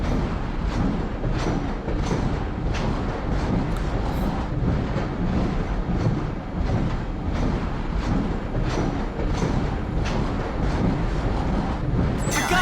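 A video game payload train rumbles steadily on its map, with dense, continuous mechanical noise and regular thumping clanks throughout, loud and unbroken.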